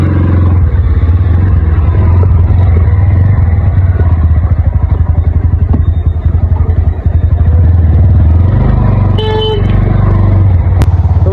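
A motorcycle ridden home on a road after collection from a garage, its engine droning loud and close throughout, with a brief horn-like tone near the end and no talking.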